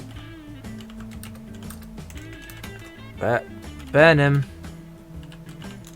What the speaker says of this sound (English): I'm having a great day typing.